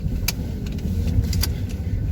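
A car driving on the road to Conway, with a steady low rumble of engine and road noise inside the cabin and a couple of faint clicks or rattles, no talking.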